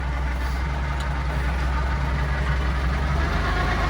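Diesel tractor engine idling steadily nearby on a farm, a continuous low rumble with a deep throbbing pulse and no pauses.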